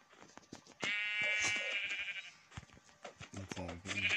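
Sheep bleating in the Minecraft video game, repeated loud bleats in quick succession alongside game sound effects and a lower-pitched animal call near the end, with no talk.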